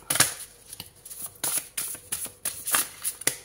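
Tarot cards are shuffled and drawn by hand in a rapid series of close riffling flutters and soft slaps, with no voices.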